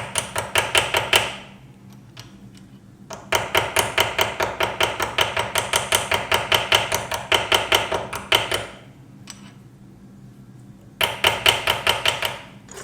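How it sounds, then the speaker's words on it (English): Rapid, ringing hammer taps on rivets of a small forged Viking pendant come in three bursts of quick, evenly spaced metallic strikes, separated by short quiet pauses, close and loud. "Just now I'm going over the rivets one more time."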